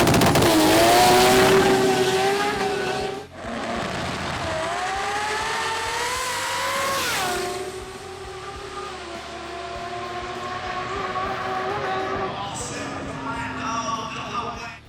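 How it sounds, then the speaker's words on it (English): Pro Turbo drag racing cars, a Mazda RX-7 and a Mazda RX-3, at a Sydney drag meet. A loud, continuous engine roar with strong harmonic whine dips sharply near three seconds, then carries on at a steady high level. "it was Lou Cosentino in the RX-7 up against Nick Saltudis in the RX-3."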